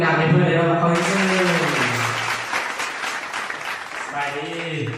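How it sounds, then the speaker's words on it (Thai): An audience at a televised singing contest claps warmly for a contestant. The applause swells for a few seconds between stretches of a host speaking over a microphone. "ขอเสียงปรบมือดังๆให้เพื่อนเลยนะ"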